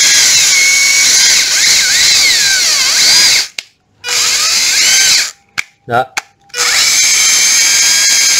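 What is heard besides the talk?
Hilti or Makita hammer drill running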